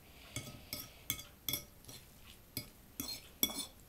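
A metal spoon clinks against the side of a pot while stirring soup, about nine sharp, bright taps in a loose, uneven rhythm, close and fairly quiet with no talk.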